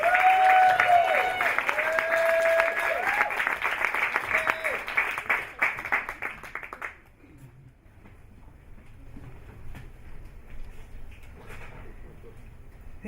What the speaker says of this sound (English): So, please, round of applause, if you will.